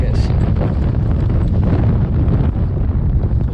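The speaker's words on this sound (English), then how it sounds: "the wind's gonna blow me in" Heavy wind buffets the microphone during late-winter bass fishing, making a loud, continuous low roar with steady gusting turbulence throughout.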